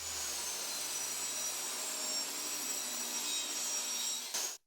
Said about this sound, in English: it's table saw time, and I'm pretty sure this is the only rip cut we're going to have to make